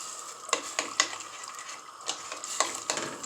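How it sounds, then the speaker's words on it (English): A spoon stirs tomato paste into a pot of locrio de salami, giving several close, soft scraping strokes in an uneven rhythm over a quiet kitchen background, with no voices. "And just mix it in as best as I can."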